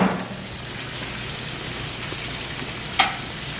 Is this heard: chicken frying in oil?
yes